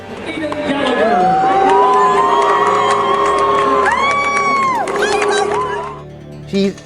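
A crowd booing and shouting at a high school track and field championship, a loud sustained roar of many voices with long drawn-out calls rising and falling over several seconds before it cuts off.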